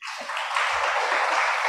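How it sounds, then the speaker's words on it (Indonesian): Congregation at a Christian church sermon applauding, a broad steady wash of many hands clapping that swells quickly and holds at an even, fairly loud level with no speech over it. "Boleh tepuk tangan bagi Tuhan."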